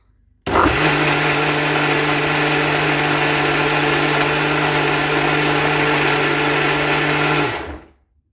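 An electric blender grinds appam batter with yeast, bursting into a loud, steady whirring drone that holds for about seven seconds, then winds down and stops.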